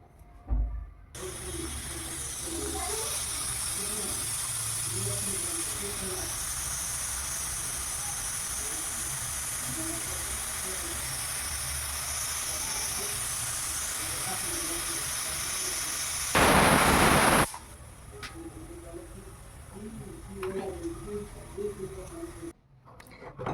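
A pressure cooker boiling bottle gourd with water gives off a steady, loud hiss of escaping steam, broken by one sharp, louder burst of steam near the end before the hiss thins out.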